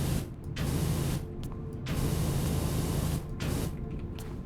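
A pressure washer in Powerwash Simulator blasts tiles in a subway station with a loud hissing spray, in bursts broken by short pauses.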